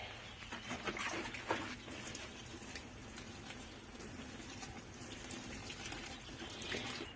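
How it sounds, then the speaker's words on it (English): Steady, soft splashing of water pouring onto soil in potato grow bags, a continuous trickling hiss with a few brief spatters, no voices. "So now all we got to do is water them"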